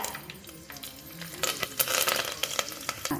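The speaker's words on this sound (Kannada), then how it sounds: "ಈಗ ಕರಿಬೇವು ಹಾಕಿದ್ದೀನಿ ವೀಕ್ಷಕರೇ." Curry leaves drop into hot oil while cooking tomato rasam, giving bursts of crackling sizzle that swell in the middle and keep spitting and popping close by.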